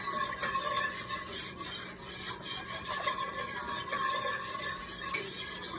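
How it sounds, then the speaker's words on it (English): A roux for macaroni and cheese is stirred in a pot, giving a steady scraping, rasping sound of utensil against metal with a gentle, uneven rhythm and no talking. "So I'm gonna go back over to my roux, give that a little stir."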